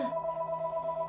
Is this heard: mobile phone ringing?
yes